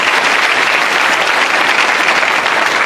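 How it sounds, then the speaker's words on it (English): Steady applause from a crowd, loud and continuous throughout, with no voices standing out. "You can clap for them"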